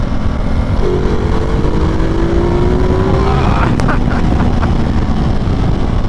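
Ducati Multistrada motorcycle accelerating hard, a loud continuous engine roar with a rising tone under heavy wind buffeting, heard up close from the rider's position.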